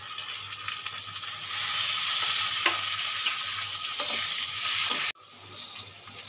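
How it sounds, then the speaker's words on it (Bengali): Onions fry in a pan for a para fish curry with eggplant. A loud, continuous sizzle runs with occasional stirring taps, then drops off abruptly near the end and returns as a softer hiss. "এবার আমি পেঁয়াজটা ভালো করে 2 মিনিট ভেজে নিই"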